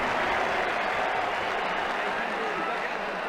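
Crowd noise in the Ashes Cricket 2009 video game, a steady wash of cheering and applause from a stadium audience after a big lofted shot, loud and sustained throughout with no break.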